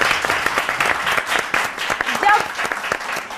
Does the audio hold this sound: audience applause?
yes